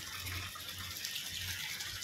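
Water runs steadily into a trough for calves, a continuous gushing, tap-like flow heard close and alone with no talk.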